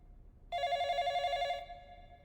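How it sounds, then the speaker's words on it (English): A telephone rings with a single bright electronic trill of about a second, clear and close, then fades into quiet room tone. "when the phone rings, one answers it"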